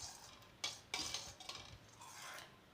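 A homemade hair oil mixture is stirred in a container, giving faint scraping and a few soft clinks and knocks against the sides, with quiet, irregular movement and no talking.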